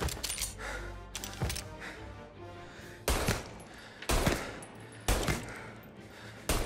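Gunfire in the crime game Mafia Definitive Edition: repeated sharp shots spaced about a second apart in a loud, echoing firefight, with metallic rattles between them.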